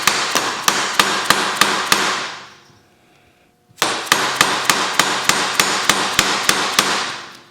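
Sharp metallic hammer blows strike a screwdriver in a quick, even rhythm, about ten strikes, a pause, then another dozen, working the front fork seal loose on a 1973 Honda CB350F cafe racer; loud and close, with no talking.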